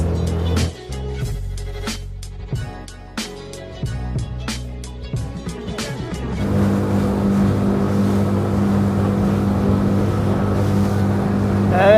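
A motorboat engine hums steadily on the Moskva River in Moscow with water rushing past, growing louder and fuller midway through; a few sharp knocks and clatters come early on.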